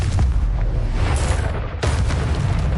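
Confringo blasting spells exploding in Hogwarts Legacy, heavy booming blasts that roll on continuously and loud, with a sharp fresh burst partway through and no talking.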